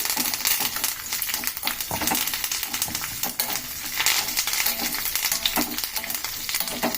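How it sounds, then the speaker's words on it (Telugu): Urad dal and chana dal fry in hot oil for a tempering, giving a dense, crackling sizzle with scattered pops and faint utensil clinks throughout, close up and without speech. "తాలింపు పెడుతున్నానండి"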